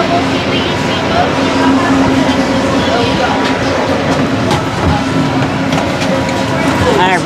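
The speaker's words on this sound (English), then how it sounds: "we are finally on the monorail" Aboard the Disneyland monorail, a steady rumbling ride with faint rattles carries on throughout while people talk over it.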